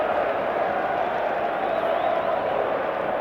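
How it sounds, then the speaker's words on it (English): A stadium crowd of English fans at a 1988 Ashes rugby league test between Australia and Great Britain roars in a loud, dense, continuous wall of cheering that never lets up. "Oh, the Englishmen are going mad in the crowd."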